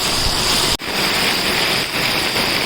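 Heavy monsoon rain pours down in narrow Mumbai by-lanes lined with shops, a dense, loud, unbroken hiss of water filling the whole moment.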